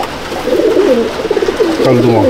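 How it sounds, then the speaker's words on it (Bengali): Pigeons coo nearby in a pigeon loft in soft, throaty, pulsing phrases, one call following another against a faint background hiss. "পায়রা দেখুন"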